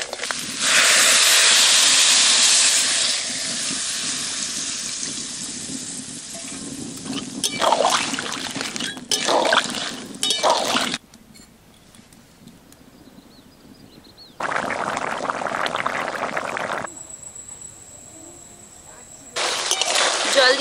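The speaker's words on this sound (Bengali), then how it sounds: "কষানো হয়ে গেছে, এবার দিয়ে দেবো জল।" Water is poured into a pan of crabs frying with spices, setting off loud bursts of sizzling hiss and spitting that stop and start, with quieter gaps between.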